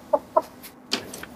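A blue hen chicken in an insurance advertisement gives two quick clucks close up, then a pause and a couple more clucks and squawks, clear and fairly loud against quiet.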